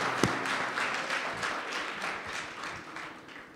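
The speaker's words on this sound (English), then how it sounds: "let's have a round of applause" An audience at a literature festival session applauds, a moderate round of many hands clapping that holds steady and slowly thins out.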